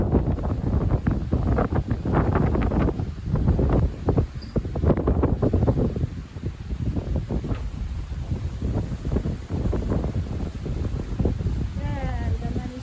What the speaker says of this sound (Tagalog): it's so windy because it's the middle of the lake